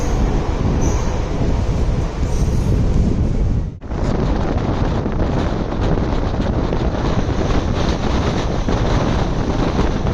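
A Villupuram–Chennai Beach MEMU passenger train runs past Melmaruvathur, heard from on board as a loud, continuous rumble of wheels and carriage noise with wind buffeting the microphone and a brief dip partway through.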